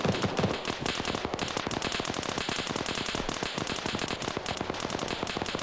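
Rapid, continuous crackling pops like distant automatic gunfire in a video game, dense and rhythmic, with a steady noisy background throughout.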